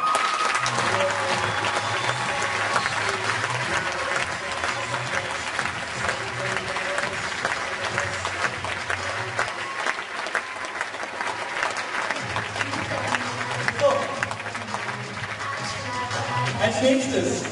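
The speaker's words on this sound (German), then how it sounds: "bitte ich wirklich alle um einen donnernden Applaus für unser Orga-Team" Sustained applause at a sports camp closing ceremony in Schleswig fills the hall with steady, dense clapping, and a lively crowd murmur runs under it, continuous and even for the whole stretch.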